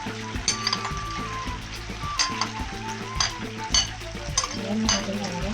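Onion hits a pan of browning chicken and fries with a loud, steady sizzle, punctuated by regular scraping and clinking of a utensil against the pan, with a voice speaking underneath.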